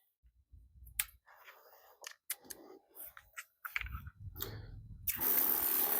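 Plastic clicks and snaps ring out as the nozzle tip on a battery-powered 4-gallon backpack sprayer is swapped from green to red, scattered across the moment and ending in a steady hiss of spray.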